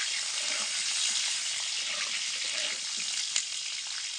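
Potatoes for a meat dish sizzle in oil as an even, dense hiss close to the listener, with a small clink near the end and no speech.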